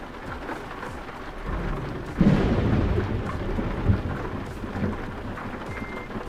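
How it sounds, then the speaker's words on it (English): Heavy downpour hisses steadily while a deep rolling thunderclap swells and rumbles for several seconds before fading, with no voices present. "Man, it's pouring down rain here."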